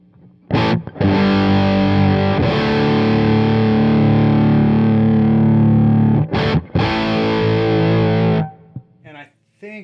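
High-gain electric guitar through a Studio Plex MK II amp with the boost engaged, heavily distorted and loud: long sustained chords ringing out with a brief break near the end, and a short tail afterward.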